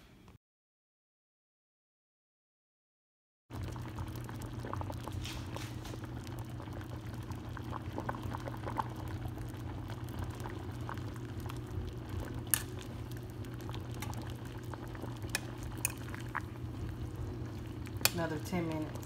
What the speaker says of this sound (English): So I'm just gonna put them in a boiler full of water for about 20 minutes until they're nice and tender.